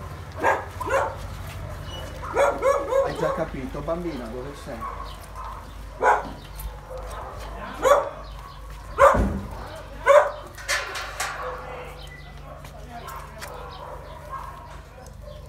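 A mother dog and her puppies bark and yip in a protected puppy enclosure, with sharp intermittent yelps and short barks scattered throughout while someone speaks softly in Italian between them.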